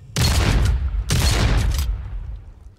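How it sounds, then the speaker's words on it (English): Machine gun fire in the shooter game Brink: two long sustained automatic bursts, loud and close, separated by a short pause, with the last burst trailing off into echo. "And the machine gun."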